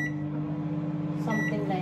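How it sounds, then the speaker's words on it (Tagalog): A microwave oven hums steadily while reheating homemade ground meat, a constant close drone with a faint beep-like tone near the end. "Ayan natin, initin na ito sa microwave."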